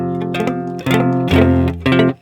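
A guitar barre chord strummed several times, buzzing and partly muted strings giving a rough, uneven tone; four separate close strums ringing alone with no talk.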